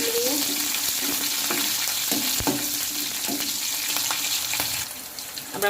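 Green chillies sizzling steadily in hot oil as a tempering for khaman dhokla, a loud continuous frying hiss with occasional stirring clicks, easing slightly near the end.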